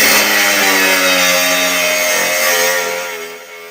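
A Milwaukee M18 slide switch grinder (2781-20) runs loud and close with a high, steady whine straining through a cut, its pitch sagging and the sound fading slightly as the blade binds toward the end.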